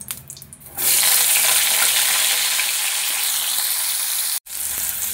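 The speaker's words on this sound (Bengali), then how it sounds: "এবারে পটলটা ভেজে নেব।" Pointed gourd is dropped into hot oil in a pan. After a quieter start, a loud hissing sizzle builds and holds steady, broken once by a brief cut near the end.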